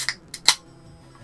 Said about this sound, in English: That was the sound of Bellsprout's eyes being picked out.